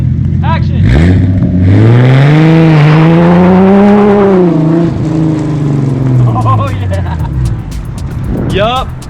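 A Toyota Supra MK4 with a 2JZ engine launches hard, its loud engine rising and holding a howling pitch before easing off, heard close and dominating the scene.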